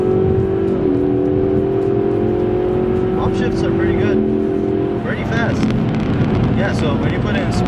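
A 2021 Ford Mustang EcoBoost Premium pulls hard in third gear, its engine note rising through a couple of quick upshifts and heard loud from inside the cabin, with some cabin noise near the end.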